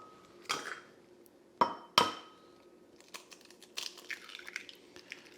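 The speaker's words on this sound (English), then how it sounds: "Crack them in a bowl." Eggs for a bacon, egg and cheese omelet are cracked into a bowl with several sharp taps, two close together, followed by softer clicks and wet rustling, quiet and near with no talking.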